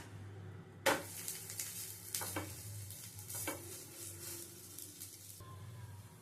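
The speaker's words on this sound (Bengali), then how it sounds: "এপিট ওপিট করে ভালো করে ভেজে তুলে নেব" Flatbread frying in a little oil in a pan over low-to-medium flame, a steady close sizzle broken by a few scraping stirs and one sharp clack near the start, with no talking.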